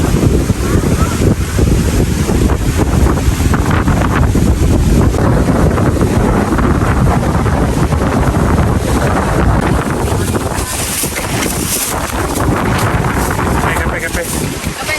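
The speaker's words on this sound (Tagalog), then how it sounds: "malakas yung hangin" Strong wind roars and buffets the microphone continuously on Siargao island, with voices talking underneath and a wash of water in the background.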